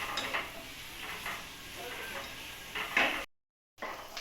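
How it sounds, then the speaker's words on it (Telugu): Sliced onions fry in a pan, giving a steady, close sizzle with soft stirring scrapes that grow a little louder near the end, before a brief moment of silence. "ఆనియన్ ఫస్ట్ మనం ఫ్రై చేసుకోవాలి."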